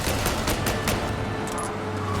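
Gunfire in Mafia: Definitive Edition, a fast series of muffled shots pulsing through a dense, noisy background roar, steady and moderately loud throughout, with no speech.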